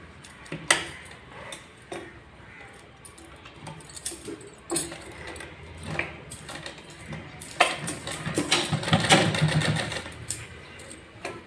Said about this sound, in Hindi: फिर इसको हम यहाँ पर इस तरह से करके तो सिलाई लगा देंगे